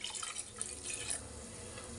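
Water from a glass poured into a pot of washed prawns before boiling, a soft close splashing trickle that fades to a quieter steady flow.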